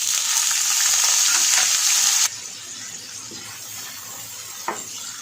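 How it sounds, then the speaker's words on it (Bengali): Chopped onion dropped into hot mustard oil with bay leaves and black cumin, a loud bright sizzle for two seconds that drops to a softer steady frying hiss, with a faint clink of a utensil near the end. "তেল গরম হলে দুটো তেজপাতা দিলাম, একটু কালো জিরে দিলাম, পেঁয়াজ কুচোনো দিচ্ছি"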